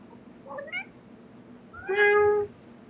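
A cat gives two close meows indoors: a short, soft one, then a longer, louder, tonal meow, with quiet background hum and no audible purr.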